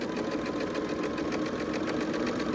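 A sewing machine runs straight stitches through quilt fabric pieces for a Carpenters Wheel and Stars pattern, a fast, even mechanical chatter held at a steady pace for the whole stretch.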